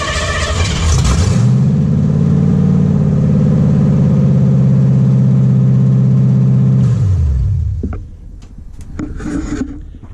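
A 1959 Ford Ranch Wagon engine cranks, catches and runs at a loud, steady idle for several seconds, then cuts out, leaving faint clicks and rustling.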